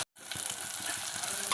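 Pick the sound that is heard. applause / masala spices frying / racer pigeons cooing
masala spices frying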